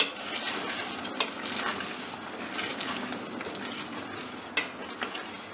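Yogurt masala for a brain masala (bheja fry) dish is fried over high heat, giving a constant close sizzle with repeated scraping and clinking of a metal spoon against the pot, and no one talks.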